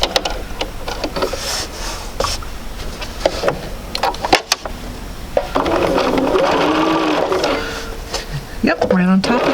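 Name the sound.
sewing machine stitching a quarter-inch quilt seam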